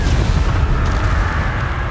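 A Confringo spell explosion from Hogwarts Legacy: a dense, sustained low rumbling burst that fills the moment loudly, with no clear gaps and no voices over it.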